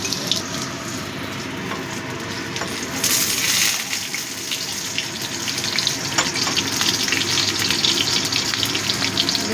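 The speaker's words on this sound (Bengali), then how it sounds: "বেগুনটা ভালো করে ভেজে নেব" Brinjal pieces frying in a pan, a continuous close sizzle with a hissing, watery texture that grows a little louder partway through, with a few small crackles and no voices.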